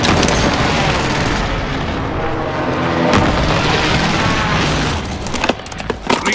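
Gunfire and explosions in the Call of Duty Warzone battle on Rebirth Island, a dense loud roar of blasts and shots with sharp cracks near the end.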